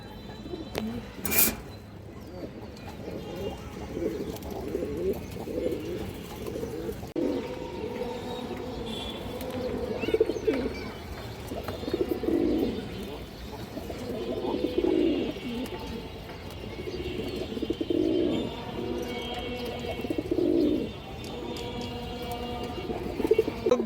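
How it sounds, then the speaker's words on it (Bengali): Indian high-flyer Kaldom pigeons coo in repeated soft, throaty rounds at close range, the calls coming in a steady rhythm over a low background hum. "এই দেখেন কবুতর"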